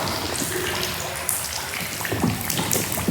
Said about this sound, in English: A lot of water filtering down through this rock.